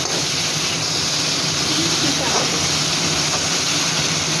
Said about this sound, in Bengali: এখন জল দিচ্ছে।